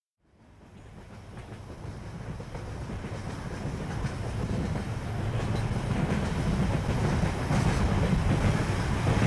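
Train sound effect for a Bengali audio ghost story: a rumbling carriage fades in from silence and builds into a steady, loud rolling roar with faint rhythmic clatter, alone with no voices.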